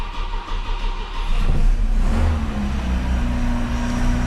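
A Volvo Amazon with a B20 engine, run without alternator or radiator, cranks and catches, then settles into a loud, steady, close idle with a low rumbling throb.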